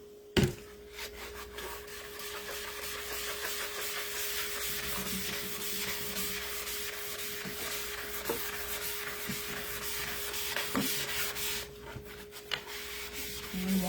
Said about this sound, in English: So I'm just taking the board eraser.